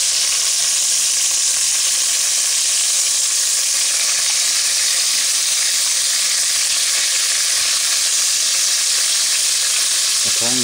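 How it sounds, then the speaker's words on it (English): Chicken legs and thighs sear in a pan over an outdoor cooking fire, giving a loud, steady, close sizzle and crackle of frying fat that goes on unbroken with no speech. "I've got all the breast meat seared up, and just working on some legs and thighs here"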